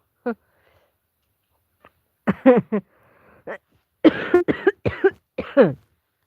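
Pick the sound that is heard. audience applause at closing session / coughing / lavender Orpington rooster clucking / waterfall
coughing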